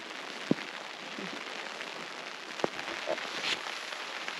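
Rain falling outside an open tent on a wild camp near Helvellyn, a soft steady hiss of light rain with a few sharp drip taps standing out near and clear.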